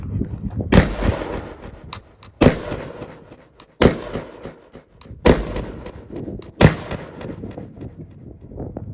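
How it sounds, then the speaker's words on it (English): A Zastava ZPAP85 rifle chambered in 5.56, loaded with handloaded rounds, fires five sharp, loud shots spaced about one to one and a half seconds apart, each with a decaying echo. "that was my son's new Zastava Z Pap 85"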